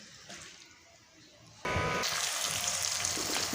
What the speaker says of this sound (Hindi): मसाले में मैंने आलू मिक्स करके इनकी थोड़ी सी देर 2 मिनट बुनाई कर ली है